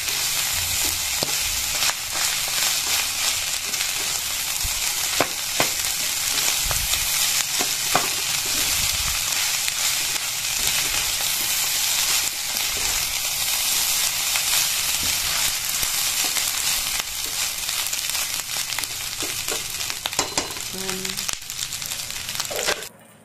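Garlic fried rice with egg sizzles steadily in a pan, a loud, continuous frying hiss with occasional stirring scrapes throughout, close and uninterrupted for over twenty seconds.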